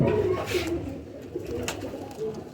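An old-breed pigeon from an ustad's flock coos in low, rolling phrases, close by and fairly clear, with faint background noise between calls.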